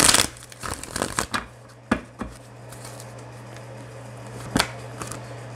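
Tarot cards are shuffled and drawn during a reading: quick papery riffles and flicks clustered at the start, then a few isolated card snaps, close and quiet over a steady low hum.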